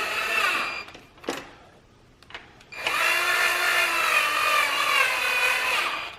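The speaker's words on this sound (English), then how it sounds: "I'm just using my drill to like get them barely started" A power drill runs bolts into the valve cover of a BMW N54 engine: a couple of brief whirring bursts, then one long, steady, close-up spin with no talking.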